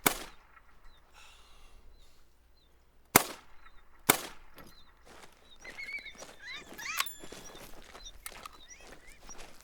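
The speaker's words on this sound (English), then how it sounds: "decided to try to take a pop shot here with the 22" Sharp .22 rifle shots at a woolly hare in theHunter: Call of the Wild, one crack at the start and two more near the middle, amid faint outdoor ambience and soft bird calls.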